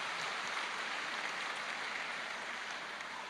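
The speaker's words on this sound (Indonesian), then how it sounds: "Beri tepuk tangan suami Anda." Steady applause fills a Catholic recollection and spiritual revival gathering as the audience claps for the husbands, a continuous, fairly faint wash of clapping heard alone.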